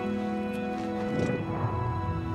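A horse in the video game Oblivion Remastered moves with soft hoof clops under a steady musical background, brief and fairly faint.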